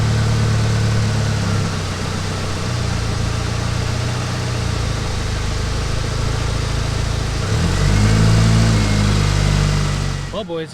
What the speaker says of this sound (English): Let's see if this thing starts up, and I'm just gonna see if it'll go into all the gears real fast.